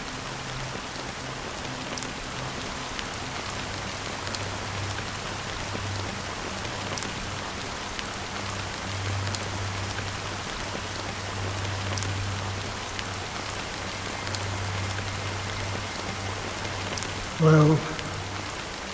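Steady rain falls in Honkai Star Rail, a dense even hiss of drops on surfaces lasting throughout, with a low hum beneath and a brief louder knock near the end.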